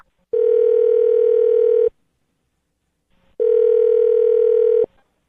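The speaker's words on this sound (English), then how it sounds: "I'm going to dial this phone over right now." Two long, steady telephone tones, loud and clean, each lasting about a second and a half, separated by a gap of silence as a call is placed from a radio studio.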